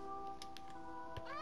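A cat meows in Minecraft on PlayStation 4, two or three short soft mews over steady game music and ambience, with a brief low thump near the end.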